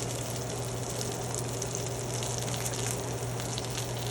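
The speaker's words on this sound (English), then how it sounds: "So it's cooking in its own fat right now. It's like frying in its own fat." A5 Japanese wagyu steak frying in its own fat, a steady, dense sizzle and crackle with a low hum underneath, continuous and close throughout.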